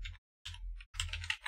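Fingers typing on a computer keyboard, three short clusters of quick close keystrokes separated by brief pauses, clear with no voice over it.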